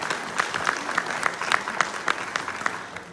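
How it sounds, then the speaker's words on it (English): Applause from a small gathering at a bat mitzvah celebration, a few seconds of fairly thin, scattered clapping with individual claps standing out, steady and moderately close. "Big round of applause."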